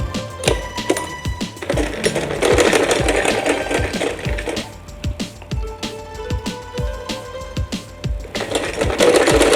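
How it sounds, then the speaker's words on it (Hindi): Sewing machine stitching the sleeve of a suit, bursts of rapid mechanical clicking and needle tapping that start, pause and restart several times, close and fairly loud with no talking. "अब यहाँ से सिलाई करना शुरू करेंगे।"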